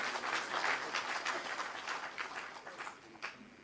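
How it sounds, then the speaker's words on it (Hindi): Brief, fairly faint clapping from an audience at the closing ceremony of an international Jyotish astrology conference, scattered hand claps fading over a few seconds. "एक बार पुनः तालियां बजाकर मैडम के उद्घोष का धन्यवाद करें।"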